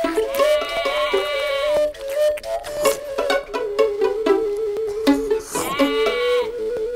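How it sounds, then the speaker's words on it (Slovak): Sheep bleat repeatedly in a farm pen, several long wavering calls overlapping near and loud, with no talk. "čo sa stalo tej ovci v kúte ohrady?"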